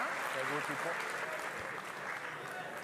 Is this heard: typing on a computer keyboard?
no